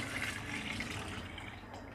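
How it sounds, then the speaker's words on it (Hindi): Water pours into a pot of browned chicken and potatoes for an aloo chicken shorba, making a steady, fairly faint rushing splash that runs through the whole moment. "आलू की बुनाई करने के बाद इसमें हम डाल देंगे 5 कप पानी।"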